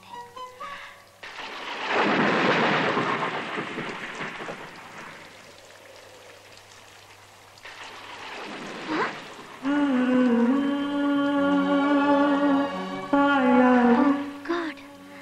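Heavy rain pours in a film scene with a low thunder rumble, a loud broad roar that swells, eases, then returns, overlaid later by musical tones.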